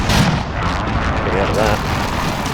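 In the video game Modern Warfare beta's Ground War mode, precision airstrike explosions roll out as a dense, loud, continuous rumble of booms and blasts, with voices faintly mixed under the barrage.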